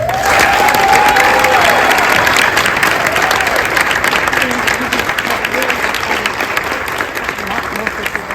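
Audience applause fills a school board meeting room, a sustained wash of many hands clapping with some crowd noise and a few voices underneath, steady throughout.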